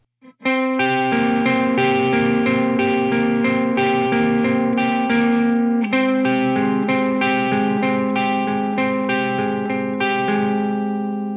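A distorted electric guitar plays a fast picked riff, steady repeated notes with a brief change partway through, loud and close with effects, no voices.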